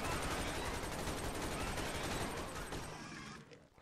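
Sustained, dense gunfire from NPC soldiers fighting in Garry's Mod, a continuous loud rattle of many overlapping shots that tapers off near the end.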